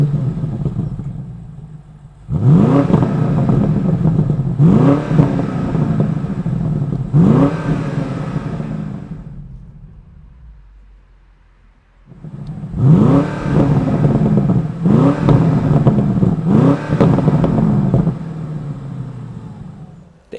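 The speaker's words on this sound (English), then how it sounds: "this car genuinely sounds like a V8. It's got that rumble on start up, revving" A BMW M850i convertible's V8 revs hard in two rounds of repeated throttle blips, each surge rising and falling with a deep exhaust rumble, separated by a quieter idle dip, loud and close.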